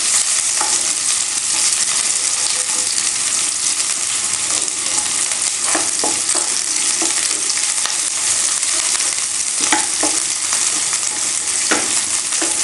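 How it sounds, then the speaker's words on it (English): Onions, mustard seeds and curry leaves frying in a pan for kothu roti make a loud, continuous sizzle, with occasional pops and the scrape of stirring throughout and no talking. "In goes the onions and the curry leaves. Stir that around."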